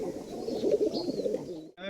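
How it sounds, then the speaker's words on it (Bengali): Soft repeated cooing from a female Pakistani Teddy pigeon, close and steady, ending in a sudden short gap before another brief call. "এটাও পাকিস্তানি টেডি মাদি কবুতর"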